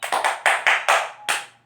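Children clapping the Tepuk Pancasila rhythm in a classroom, about seven sharp, close claps in an uneven pattern with short gaps, no speech.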